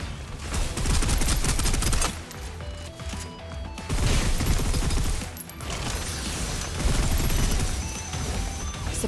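Sustained suppressive gunfire in a video game, dense rapid bursts of shots and machine-gun rattle stacked over each other, loud and close, with brief lulls between volleys and no talking.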